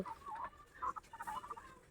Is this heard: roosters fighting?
yes